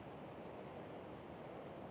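Ocean surf at Pacific Beach, a steady soft wash of waves with no voices.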